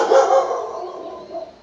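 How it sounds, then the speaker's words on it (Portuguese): A dog barks twice in quick succession, loud and close, and a softer yelp follows after a short pause. "o cachorro está latindo"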